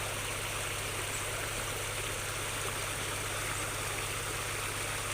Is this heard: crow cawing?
no